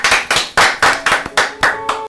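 Audience clapping for a live rap performer, with eight loud, rhythmic bursts of applause in steady succession, close and crowded, with no talk over it.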